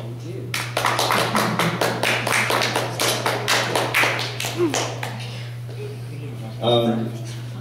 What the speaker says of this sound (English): Your applause sounds great even all the way from Tampa.